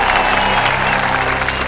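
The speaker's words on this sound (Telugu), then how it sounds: "చప్పట్లు." A large audience claps in a dense, steady burst that is loud and close throughout, with a faint murmur of crowd voices under it.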